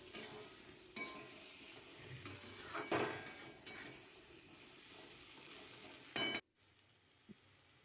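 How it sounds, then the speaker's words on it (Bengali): Fried cauliflower and potato cooking in spice paste, a low sizzle with occasional stirring clinks and pan knocks, quiet, then cutting off near the end. "এগুলো দিয়ে একটু 2-4 মিনিট ভেজে নেবো একটু।"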